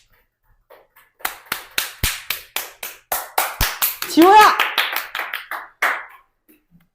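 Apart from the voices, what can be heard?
audience clapping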